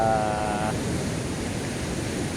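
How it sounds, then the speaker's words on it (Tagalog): Sea waves driven by Typhoon Kristine surge onto the shore in a loud, continuous broadband roar close by, with a brief tonal whine at the start. "Abot dito guys sa akin ang alon guys"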